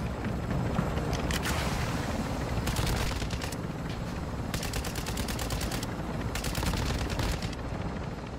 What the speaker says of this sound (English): still have no idea where I'm being sniped at from